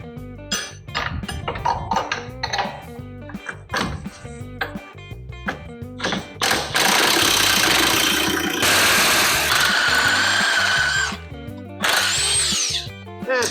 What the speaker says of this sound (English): Knock these 4 bolts loose.